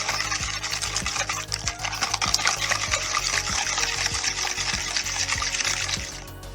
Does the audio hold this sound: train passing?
no